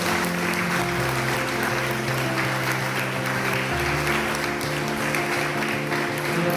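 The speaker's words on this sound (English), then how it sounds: "So you can give a big round of applause." Audience applause at an awards and prize ceremony, a continuous even wash of clapping under a steady background hum, holding at the same level throughout.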